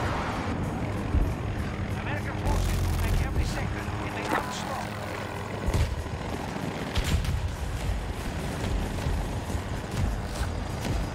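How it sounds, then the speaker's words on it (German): An attack helicopter in Battlefield 2042 flying over a busy battle, a dense rotor and engine roar mixed with gunfire and explosions; players talk over the din throughout. "Hier ist immer noch ein Attack-Helikopter."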